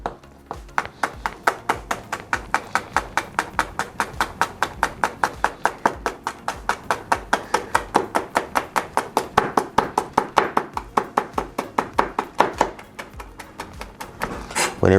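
Steady, rapid knife chops on a cutting board, dozens of evenly spaced sharp taps in a quick unbroken rhythm, close and clear with no talking.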